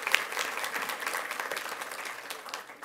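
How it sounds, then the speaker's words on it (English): An audience at a school board meeting applauds in a steady wash of clapping, fairly distant and soft. "Let's give them one more round of applause."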